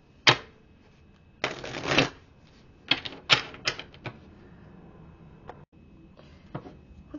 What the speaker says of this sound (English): Let me pull a card from the Twin Oracle deck and see what's going on there.